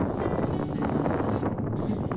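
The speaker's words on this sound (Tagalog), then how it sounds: "ang haplos ng hangin na tila ba ang mga puno ay umiindak at umiindayog sa bawat hampas nito" Steady wind blows through trees in a park in Qatar, a continuous rustling roar with slight gusts and no voices.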